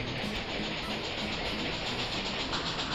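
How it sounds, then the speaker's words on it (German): Steady rumble and hiss of a train arriving in the Railroad Tycoon 2 video game, a continuous broadband rolling rail sound at moderate level without distinct breaks. "Der nächste Zug kommt."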